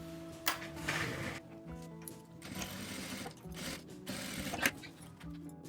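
A sewing machine runs a topstitch along the folded edge of a small strawberry-shaped fabric pouch, its steady mechanical whir continuing near and fairly loud, with brief pauses and a few clicks.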